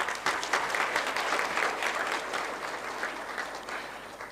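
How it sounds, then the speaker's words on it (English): A conference audience at a battery summit applauds steadily, a dense wash of clapping that slowly tapers off. "Could we have another loud round of applause?"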